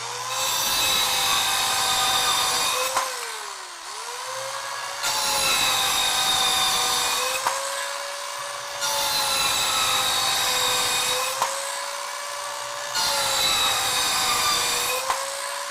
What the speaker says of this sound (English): we will score it several times